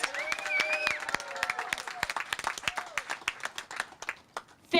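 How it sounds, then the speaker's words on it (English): Scattered clapping from a small group, uneven claps fading out, with a few children's voices and shouts over it. "Please give a warm round of applause"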